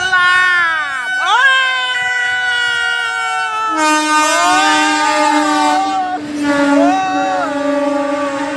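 Train horn blasting loudly and continuously, with long sustained tones that shift in pitch over several seconds, a second horn joining partway through.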